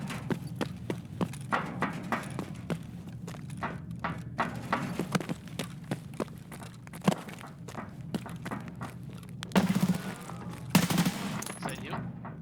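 Gunfire in Escape from Tarkov, a long run of sharp cracks and pops, some distant and some close, with two louder, denser bursts near the end; a voice is briefly heard.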